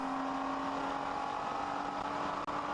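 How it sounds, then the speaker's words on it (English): Endurance race cars run at full throttle on the Daytona circuit heading into turn 1, a steady loud engine drone with a sustained pitch through the whole stretch and a brief dip near the end, no talk. "The Shark car comes by, passes a Mini Cooper, and as they head down into turn 1, they are at full song out here at Daytona."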